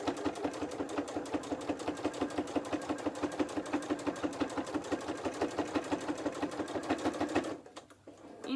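A sewing machine runs a steady straight stitch along the corner of a fabric book cover, its rapid, even needle chatter continuing for about seven seconds before stopping abruptly.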